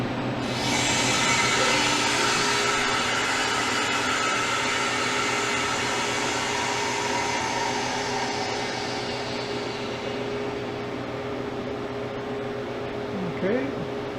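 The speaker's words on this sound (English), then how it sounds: "I'll open the drain valve." Air rushes steadily into a freeze dryer as its drain valve is opened, a loud, close, broadband hiss that holds for several seconds and then slowly tapers, with a faint click near the end.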